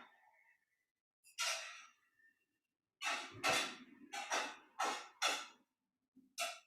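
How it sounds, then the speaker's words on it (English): Breathwork exhales in a hatha yoga session: several forceful, breathy releases close to the listener, one alone and then a quick run of four or five, with a final short breath. No talk. "Release on that exhale."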